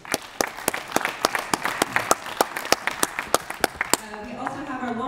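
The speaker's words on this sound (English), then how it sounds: "So a big round of applause for our volunteers this weekend." At a film festival awards ceremony, a small audience claps for volunteers. The claps come distinct and fairly regular, a few hands close by, and they stop as a voice starts speaking at the end.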